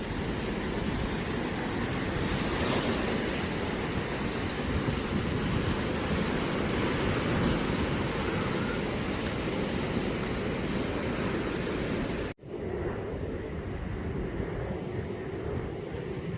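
Ocean waves and strong wind roar at Matosinhos beach in Porto on a cold day. A loud, continuous wash of surf and gusting wind fills the whole stretch, with a brief dropout near the end.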